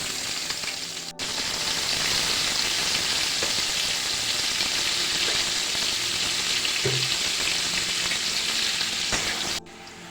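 Vigorous, steady sizzling of potatoes frying in hot oil, close and loud, with occasional stirring clinks and no talking.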